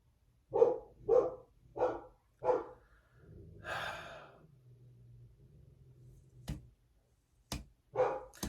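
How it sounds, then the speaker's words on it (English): A Labradoodle being walked outside barks four times in an even rhythm, then a long breathy exhale, a few sharp clicks, and one more bark, all fairly close. "you can hear the Labradoodle barking as it's being walked across"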